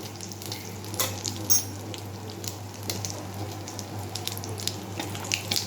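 Black cumin and radhuni seeds hit hot oil and give a close, steady sizzle with light crackles, plus a couple of brief clinks, and no talking.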